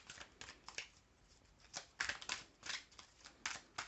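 Tarot cards are shuffled and drawn by hand, giving a quiet, close series of crisp riffling and sliding bursts in an irregular rhythm, with no talking.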